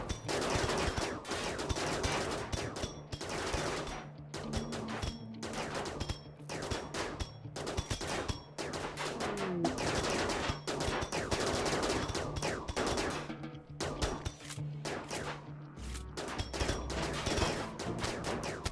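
Dense, continuous RimWorld combat gunfire with shotguns, rapid overlapping bursts and volleys crackling without pause, loud and busy throughout.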